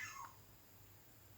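A pet cat gives a single short meow at the very start, faint and close, followed by quiet room tone.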